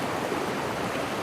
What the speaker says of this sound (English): it's kind of a lot of water that is flowing